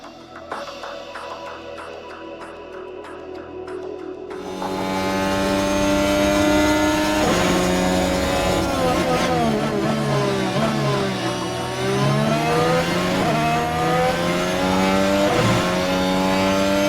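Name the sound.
Formula 1 car driving a lap of the Miami circuit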